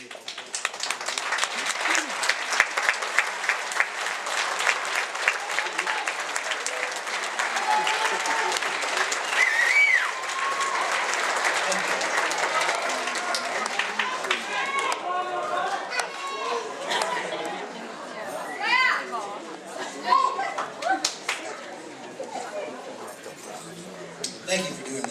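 A graduation audience stands and applauds, dense sustained clapping and crowd chatter filling the hall, gradually thinning into scattered claps and murmuring voices.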